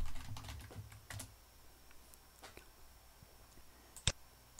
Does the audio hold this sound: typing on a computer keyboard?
yes